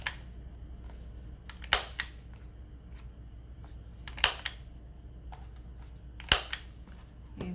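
A small corner-rounding punch clips the corners of a paper craft tag, giving three sharp, close, quiet snips spaced a couple of seconds apart over a faint room hush.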